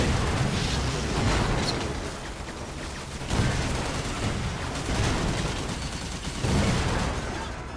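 Tank gunfire in the Toy Soldiers: Cold War video game, dense and loud, with booming shots, explosions and rapid fire blending into a continuous barrage with brief swells.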